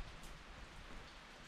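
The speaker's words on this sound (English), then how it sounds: "it is raining" Steady rain falls over Meteora, Greece, a dense, even hiss of drops on surfaces filling the whole moment with no voices.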